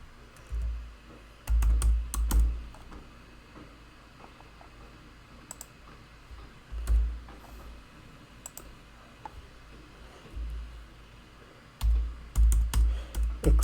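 Typing code on a computer keyboard: bursts of quick key clicks in short runs separated by pauses, close and fairly quiet, with no speech.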